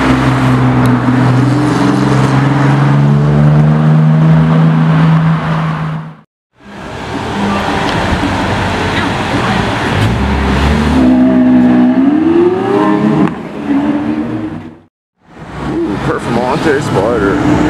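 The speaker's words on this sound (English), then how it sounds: "There goes the TVR." A TVR Tuscan sports car drives past with loud revving engine notes rising and falling in bursts, separated by brief cuts, while people talk excitedly nearby.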